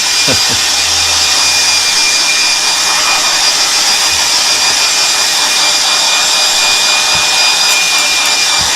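A hair dryer blows steadily on wet paint on a drawing of children, a loud continuous whooshing roar that runs unbroken from start to finish, with no talking.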